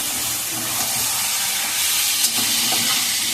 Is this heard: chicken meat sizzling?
yes